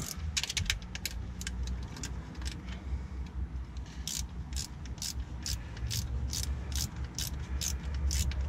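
A ratchet wrench loosening nuts under a car while removing a 2.2 HDI engine, quick bursts of clicking ratchet strokes repeating in a steady rhythm, close by with faint metallic handling between them.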